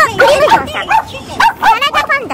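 A dog on a San Francisco street yaps and barks in quick, high-pitched bursts, loud and close, in an irregular string of short calls.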